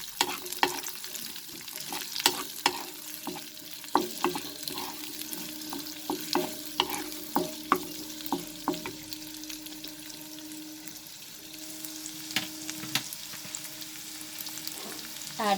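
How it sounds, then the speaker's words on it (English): Onions sautéing in a pan for chilli cauliflower give a soft, continuous sizzle under frequent rhythmic spatula scrapes and taps, fairly quiet and close. "Saute the onions."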